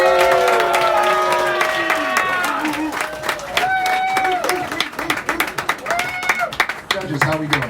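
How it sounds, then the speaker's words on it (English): An audience at a staged contest show claps and cheers, with crowd noise and clapping running under a loud, busy mix of voices and tones that turns into scattered, rhythmic handclaps toward the end. "let's give a big round of applause to Scott Blumstein and Elimination"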